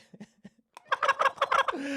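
A handheld turkey gobbler noisemaker toy sputters out a few soft clucks, then a loud, rapid warbling gobble that ends in a rising buzzy tail.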